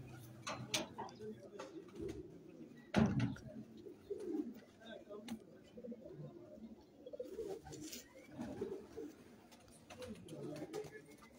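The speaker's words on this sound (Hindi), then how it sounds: "बहुत ही अच्छा कबूतर है जी।" A prized pigeon coos softly and intermittently at close range, low throaty murmurs scattered among faint clicks and shuffling in an otherwise quiet space.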